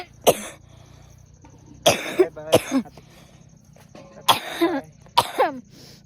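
A person coughs repeatedly in harsh, close bursts: one cough, then a cluster of three, then another cluster a couple of seconds later, with quiet between them.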